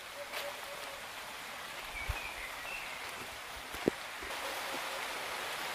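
Rain falls outdoors as a faint, steady wash of hiss with a couple of isolated sharper drips or taps standing out.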